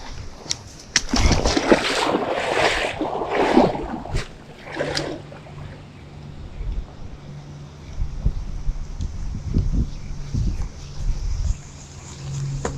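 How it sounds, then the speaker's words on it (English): Steady wind gusting over open water during a fishing outing on a boat, a broad rushing roar with splashes and knocks early on, continuing throughout. "It's starting to get windy."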